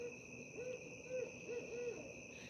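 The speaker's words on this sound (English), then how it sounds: "Can y'all hear that owl?" An owl hoots at night, four soft, short hoots in an uneven series, fairly close over a steady buzz of night insects, with no talk.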